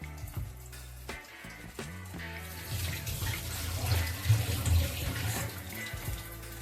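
Tap water runs steadily into a kitchen sink as raw chicken is washed for a crispy chicken fry, a close continuous splashing flow with a few brief knocks near the start.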